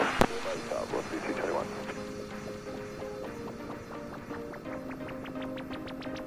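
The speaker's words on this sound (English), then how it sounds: "Tomahawk Papa Alpha Alpha is turning base for runway 35" A Piper Tomahawk light aircraft's piston engine drones steadily on approach while turning base to land, with a pilot talking over the radio early on and a rising tonal whine building toward the end.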